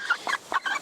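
A small hen clucking softly, with four short, quick clucks close by and no other sound.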